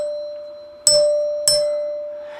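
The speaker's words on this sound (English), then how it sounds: "when the chime rings and the plungers strike the tone bars" A NuTone LA71 Electronic Madison 8-note door chime rings twice, with plungers striking its tone bars, each strike a bright ding that rings on and decays over a steady electronic hum.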